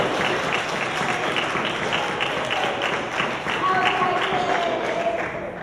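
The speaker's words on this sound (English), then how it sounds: "Give her a nice round of applause, everybody." Audience applause for a performer at a comedy or variety show at Methodist University, dense and steady clapping from a crowd, loud and sustained, with cheering voices mixed in throughout.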